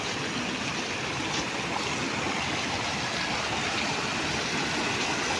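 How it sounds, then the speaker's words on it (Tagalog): Floodwater rushes through a street in Angeles City, Pampanga, after repeated heavy rain, making a steady, loud, unbroken roar of flowing water with no voices over it. "Itong baha na to mga kabay, itong tubig na yan, galing yan doon sa amin, doon sa taas."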